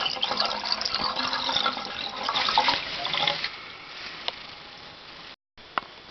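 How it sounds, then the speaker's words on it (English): Water rushes out of a toilet tank held open to drain it while a house is winterized, a loud broad gush for about three seconds that eases into a quieter trickle, then one short drip-like tick near the end. "Make sure you drain all the water out of the tank as much as possible by holding it open."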